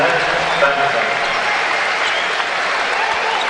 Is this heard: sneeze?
no